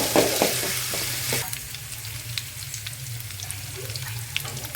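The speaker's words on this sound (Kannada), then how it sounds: "ಅರ್ಧ ಸ್ಪೂನು ಬೆಳ್ಳುಳ್ಳಿ ಶುಂಠಿ ಪೇಸ್ಟ್ ಎಣ್ಣೆಯಲ್ಲಿ ಫ್ರೈ ಮಾಡ್ಕೊಬೇಕು." Garlic ginger paste fries in hot oil for chicken fried rice, a bright crackling sizzle that starts loud with a few spatters, then settles into a steadier hiss with light stirring.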